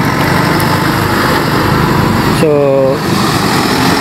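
A motorbike engine idles steadily up close while stopped at a roadside, a constant buzzing drone running throughout with a brief spoken word over it.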